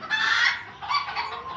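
Chickens at a farm market give two short, close clucking calls, a squawk followed by a softer cluck, with no talk over them.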